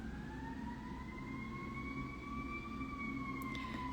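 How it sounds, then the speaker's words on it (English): A steady wailing siren, likely from a fire engine or emergency vehicle, sweeps slowly up and down in pitch over a constant low rumble, sounding somewhat distant and continuous throughout. "The sirens."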